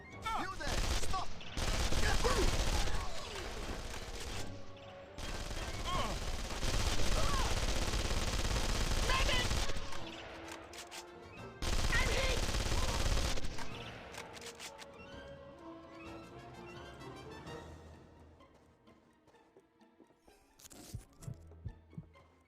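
Heavy automatic gunfire in the shooter game Contract J.A.C.K. comes in several loud sustained bursts, easing to scattered shots and quieter game sounds toward the end.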